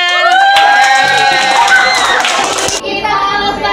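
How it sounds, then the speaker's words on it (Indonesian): An audience at a teacher appreciation event in Banjarbaru claps over loud, sustained shouted and cheering voices, some of them children's, and the sound cuts off abruptly near the end. "Iya, beri tepuk tangan."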